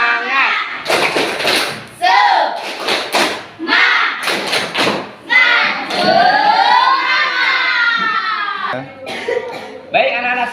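A class of schoolchildren performs a rhythmic spirit clap in a classroom, with bursts of sharp clapping and slapping mixed with loud children's voices chanting and shouting, close and busy.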